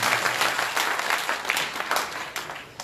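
A crowd applauds steadily, a dense wash of clapping that carries on throughout without voices.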